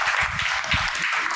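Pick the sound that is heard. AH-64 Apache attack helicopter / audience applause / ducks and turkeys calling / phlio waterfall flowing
audience applause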